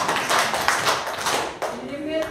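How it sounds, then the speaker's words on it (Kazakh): Schoolchildren in a classroom clap together in a few quick bursts for one group, the claps near and fairly loud over a busy room, with a teacher's voice speaking afterward. "Тамаша, үшінші топқа 3 шапалақ."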